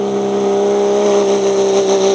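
An MF Express pulling tractor at a truck and tractor pull in Paris, Kentucky, with its engine roaring loud and steady throughout, close and unbroken.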